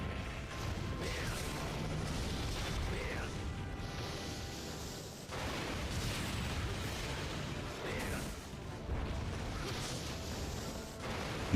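Repeated explosions and crashing impacts from the video game Monster Hunter Generations Ultimate, loud and dense throughout with several bursts in succession, layered over continuous game background noise.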